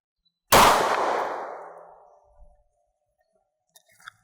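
A single sharp, loud gunshot from a .40 caliber handgun fired into a refrigerator, with a ringing metallic decay over about a second and a half, then faint clinks.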